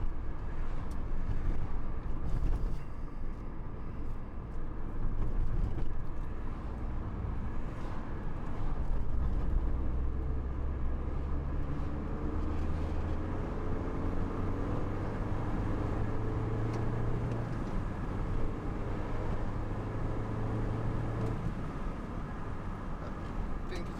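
A Mini Cooper fitted with a RaceChip tuning module drives in race mode, its engine a steady low drone with rising and falling tones as it pulls through the gears, heard from inside the cabin over continuous road noise.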